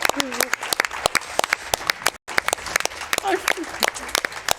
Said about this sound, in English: let's clap for Leo